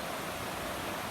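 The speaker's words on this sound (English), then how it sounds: "Made it down to the creek." Creek water rushes along the Cumberland Trail in a continuous, even wash of noise, close and steady throughout, with no voices.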